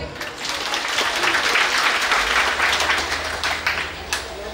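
Applause from a crowd at an Odia jatra folk theatre performance swells into a sustained roar of clapping, then thins out with a few last claps near the end, and a low hum runs underneath.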